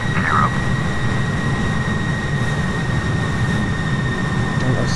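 The Tu-95's turboprop engines in Flight Simulator X drone as a steady loud hum with a constant whine, unbroken throughout, and a brief faint voice near the start.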